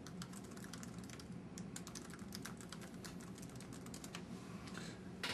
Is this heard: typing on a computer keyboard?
yes